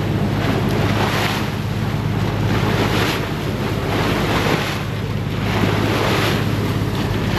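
Strong wind buffets the microphone on an open boat out at sea, with a steady roar of waves and rushing water, loud and continuous throughout.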